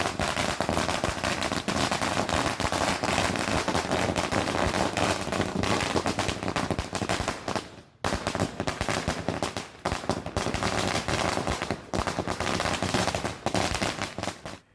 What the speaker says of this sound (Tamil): ஒரே நேரத்தில் 1 லட்சம் பட்டாசுகளை வெடிக்கச் செய்தனர்